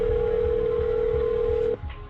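A telephone line gives a steady, loud tone while a phone call is being placed, cutting off abruptly near the end, with a low rumble underneath and no voices.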